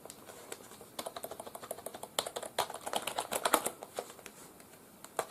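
Rapid, uneven keystrokes on a Logitech K275 wireless keyboard, close and crisp, with bursts of clicks and a few heavier key hits, no talking.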